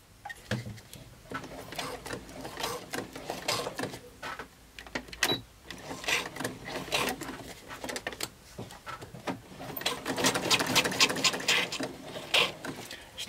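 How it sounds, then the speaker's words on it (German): A sewing machine stitches a seam on a fabric bag in rapid mechanical bursts, starting and stopping with short pauses between runs and a long steady stretch near the end. "Ich nähe jetzt bis zu der Naht,"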